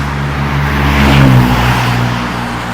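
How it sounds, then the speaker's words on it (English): Steady, loud roar of cars driving past on the road beside the narrow East River walkway in Manhattan in early morning, a close vehicle swelling and fading mid-clip over a constant low engine rumble. "it's very noisy with the cars on one side"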